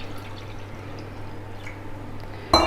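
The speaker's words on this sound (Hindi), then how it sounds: "तो अब इसमें पानी हमने शामिल कर रहे हैं।" Water splashes and trickles into a pot of spiced potato and meat curry (aloo gosht salan) over steady background hum, ending in a louder burst of pouring near the end.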